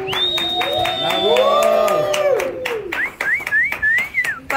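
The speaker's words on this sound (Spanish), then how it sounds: "Un aplauso, por favor." An audience claps in a steady rhythm while shrill whistles and crowd noise ring out over it; the clapping stays loud and close throughout.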